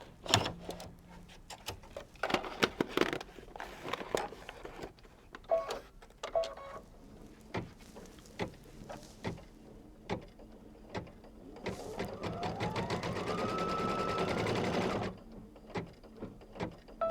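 An embroidery machine stitches a tack-down line for a quilt project: scattered clicks and taps, then a sustained mechanical whirring run for a few seconds before it stops, close and moderately quiet.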